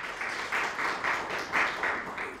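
An audience at a university economics event applauds as honors students are named. The clapping comes in brisk, rhythmic bursts at a steady, moderate level, with no talk heard.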